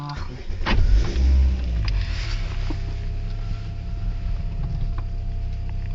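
Car engine revving with clutch work during a driving lesson, a low steady hum that swells briefly early on, then holds under faint speech inside the cabin.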